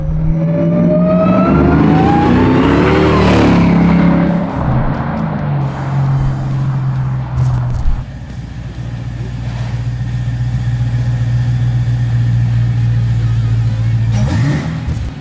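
A 745 hp Chevy C10 truck engine roars loud and close as it revs hard with rising pitch, then drops to a steady, rumbling idle, with a brief blip of throttle near the end.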